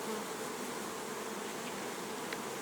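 Bees buzz steadily around an open hive, a dense continuous hum close by with no voices, lasting the whole stretch.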